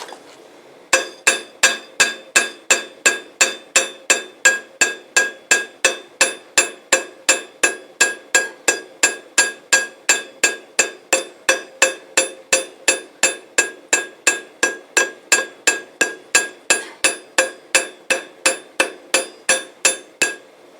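Steady rhythmic hammering of thin, hot metal shaped into a small decorative spoon by a blacksmith, dozens of bright ringing blows in an even, fast cadence, close and loud, with no talking.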